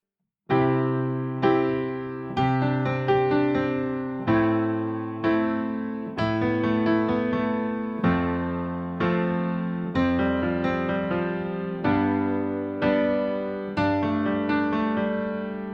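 Solo piano plays a slow chord progression, each chord struck about once a second, with short melodic fills ringing between them.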